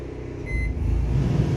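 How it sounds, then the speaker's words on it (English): A microwave oven hums steadily, with a short high electronic tone near the start. "cut on the microwave."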